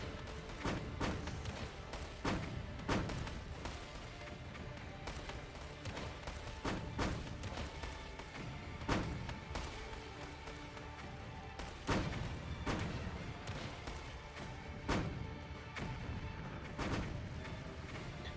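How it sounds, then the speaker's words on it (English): Repeated heavy thuds and booms of gas mortar fire in a strategy war game with Austria-Hungary, irregular blasts over a constant dense battle din, no talk. "I use my gas mortar to try and hit his workers over here."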